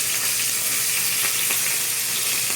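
Carp fish fries in a pan with a loud, continuous close-up sizzle and occasional faint pops of hot oil, steady throughout with no voices.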